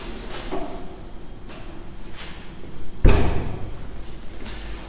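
A door in a breezy old house room thumps shut once with a heavy low thud about midway, after quieter rattles and soft knocks, and no talk over it.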